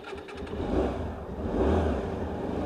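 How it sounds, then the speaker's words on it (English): Hyosung GT125R V-twin motorcycle engine running, a brand-new bike with zero miles, its low throbbing drone rising in a short rev, close and steady with no talk. "Little V-twin engine on these."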